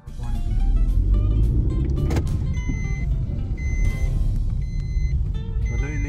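Road traffic passes on a mountain road, a steady close rumble of cars and a truck with brief beeps and tones over it, continuous and loud throughout.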